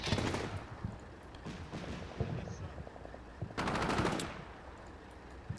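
A team fires weapons in the Combat Mission Shock Force video game, bursts of rapid gunfire crackling in short clusters, one heavy volley near the end, with a voice talking over it.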